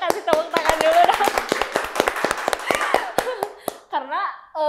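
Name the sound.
clapping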